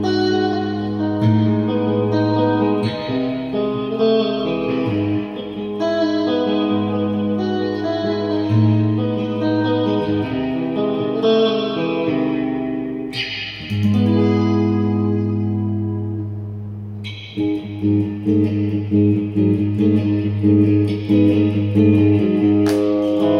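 A Victory V40 Duchess guitar amp played with its reverb turned up high gives sustained, shimmering guitar chords and notes that wash into long ambient echoes, steady and loud throughout with no talking.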